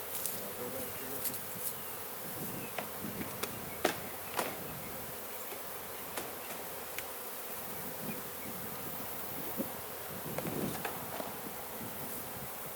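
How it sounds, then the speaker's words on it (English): Honey bees buzz around a hive frame during a backyard honey harvest, a steady close drone of many insects with individual wingbeats passing near, faint occasional clicks and rustles underneath, and no talking. "Check out the bees that are on here."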